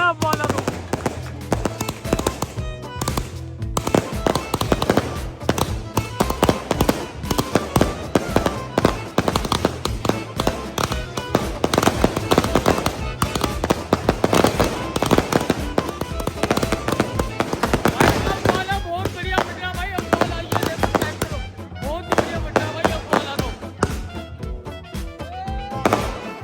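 Diwali sky shot fireworks going off in a loud, dense barrage of repeated bangs and crackling bursts that continue almost without pause from start to finish.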